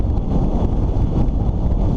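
Strong wind buffeting the microphone during a bike ride through town, a dense, loud low roar that stays steady throughout the short stretch.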